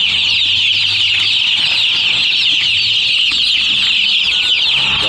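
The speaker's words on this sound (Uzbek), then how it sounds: "Oqlari birovli, qoralar Andijon qora jo'jalar." Black Andijan chicks about two weeks old peep constantly in a loud, dense, continuous chorus, with no pauses and no voices.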